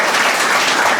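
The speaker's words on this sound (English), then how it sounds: "Can we clap for the Swipe Right show once?" A studio audience at a Swipe Right comedy dating show claps together in a short, dense burst of applause, loud and close, filling the whole moment.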